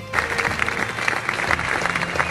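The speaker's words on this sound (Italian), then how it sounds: "Un grandissimo applauso a tutti gli atleti." An audience applauds steadily and warmly at the close of a Sagido martial arts demonstration evening, dense clapping filling the space throughout.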